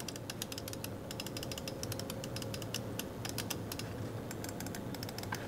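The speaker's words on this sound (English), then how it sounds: "It feels really good clicking" A Razer Viper Mini ultralight gaming mouse being clicked repeatedly, sharp crisp clicks in rapid irregular bursts over a steady low background hum, close up with no voices.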